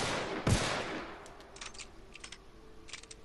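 Revolver gunshot in The Outer Worlds video game: a single loud, sharp report near the start that decays quickly, followed by faint clicking and clattering sounds.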